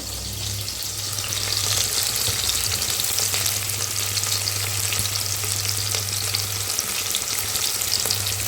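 Onions and curry leaves fry in a pan for a country chicken curry, a loud and continuous sizzling hiss lasting several seconds, with faint stirring and no voices.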